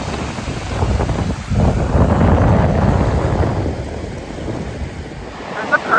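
Ocean surf rolls onto a beach with warm water, a steady loud wash of breaking waves mixed with wind buffeting the microphone, swelling and easing over several seconds.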